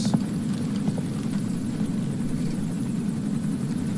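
Helicopter rotor in the video game Metal Gear Solid 5: The Phantom Pain, a steady low droning thrum that holds even and fairly loud throughout with no voices.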